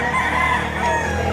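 Roosters and chickens offered for sale at a weekend market behind SM City Lipa, Batangas, clucking and crowing in a steady, close, continuous din of overlapping fowl calls.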